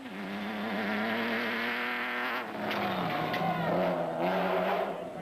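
Ford Ranger race truck engine in an off-road race, a buzzing mid-distance engine whine that rises and falls through gear changes as the truck passes.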